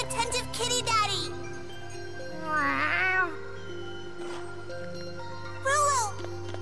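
Rolo the cat meows three times in Tales of Xillia 2: a cry at the start, another in the middle and a last one near the end, each clear and close over a steady musical backdrop.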